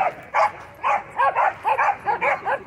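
Several dogs bark back and forth along a dog park fence, a rapid string of loud, close barks and yips in uneven bursts.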